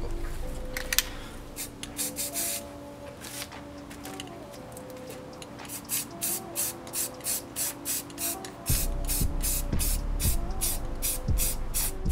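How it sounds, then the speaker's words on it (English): Short bursts of aerosol spray paint hiss in a steady rhythm, applying a Rhodesian brushstroke camouflage pattern, followed by a louder continuous spray with some rubbing and handling noise beneath. "we're going to move on to the final coat of spray paint"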